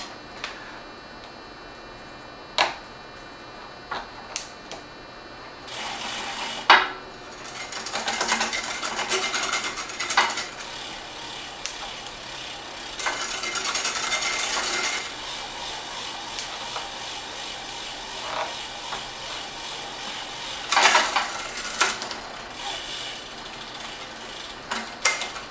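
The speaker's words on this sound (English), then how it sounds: "you're just going to want to run the chain through the cloth and dry it off as much as possible" A bike chain rattles and clicks as it is pulled through a cloth held in the hand, a steady mechanical whirring in bursts with short gaps, close and fairly loud.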